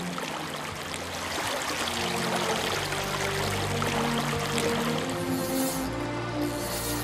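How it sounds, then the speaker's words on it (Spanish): Fast, winding river water rushing steadily on an overcast day, a dense continuous close flow with churning and gurgling throughout. "El día está nublado y la luz se tamiza de verdes reflejados en las serpenteantes y rápidas aguas del río."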